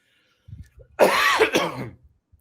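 A person makes a few soft guttural throat-clearing sounds, then gives one loud harsh cough followed quickly by a second, shorter one.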